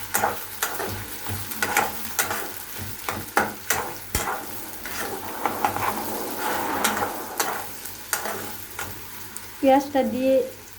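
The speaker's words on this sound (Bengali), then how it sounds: "পেঁয়াজটাকে আমি ভালোভাবে বাদামি রং করে ভেজে নেব" Sliced onion frying in hot oil with black pepper and cumin, a steady close sizzle with stirring scrapes and spoon clinks against the pan, a few louder knocks near the end.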